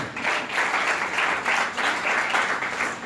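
A church congregation clapping and applauding together in steady rhythmic bursts, fairly close and lively, with no speech over it.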